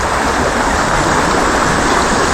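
Water flowing from a natural spring, a loud, close, continuous rushing and splashing that holds steady throughout without any talking.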